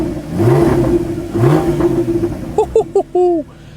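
A Porsche Cayman GT4 engine revs hard with a throaty exhaust note, rising and falling twice, then ending in short sharp blips.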